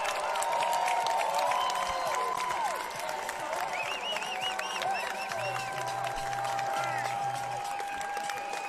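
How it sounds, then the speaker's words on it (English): A sellout college women's soccer crowd at Kagan Stadium cheers and applauds a Michigan State goal against Stanford, a broad sustained roar with whistles, faint under a commentator's voice. "The sellout crowd at Kagan Stadium is absolutely loving it"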